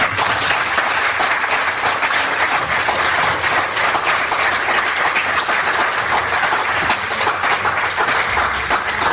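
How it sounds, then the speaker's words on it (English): A lecture audience at Birkbeck, University of London, breaks into loud, dense applause after the talk, a continuous roar of many hands clapping at full strength throughout, close and unbroken, with no voices on top. "Keep applauding, come on!"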